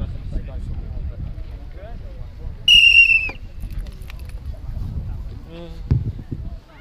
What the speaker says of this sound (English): I need to blow the whistle.